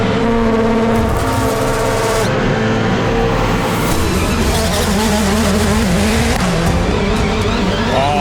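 Subaru Gymkhana GL Wagon with an 860 hp 2.3-litre turbo flat-four launching hard at Goodwood Festival of Speed, a loud continuous engine roar with rising revs and tyre squeal throughout.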